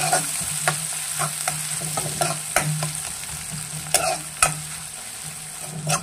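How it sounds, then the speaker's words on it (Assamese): Finely chopped onions sizzle steadily in a pan while a spoon stirs them, with repeated sharp scrapes and clicks against the metal over a constant hiss; no one speaks. "অকণমান ধুনীয়াকৈ ভজাই ল'ম"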